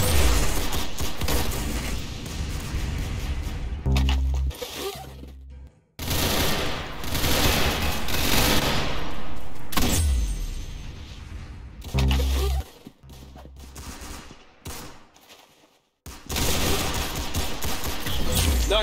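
Rapid automatic gunfire bursts in the Roblox shooter Arsenal, loud and close, coming in repeated volleys split by short silent gaps.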